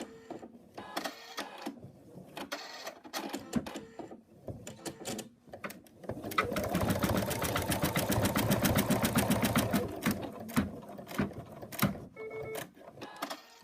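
An embroidery machine stitches an in-the-hoop moose ear, a dense, steady rapid whirring that runs for several seconds mid-clip, framed by quieter handling clicks and taps before and after.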